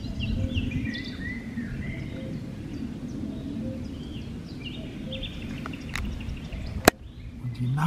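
Varied nightingale song with quick whistles and trills over a low outdoor rumble during a bicycle ride, ending in a sharp click.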